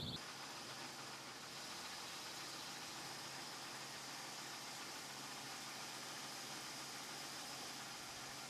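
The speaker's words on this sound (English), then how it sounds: "I decided to leave the engine running so the audio is terrible" A truck engine idles steadily beneath the work of installing a Rough Country track bar, a constant broadband rumble with a slight knocking texture, running at even loudness from start to finish with no talk.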